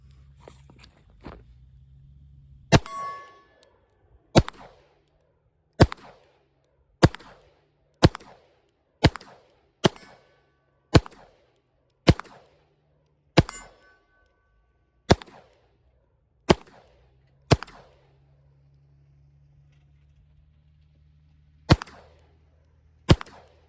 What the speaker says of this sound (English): we're hitting the target most of the time.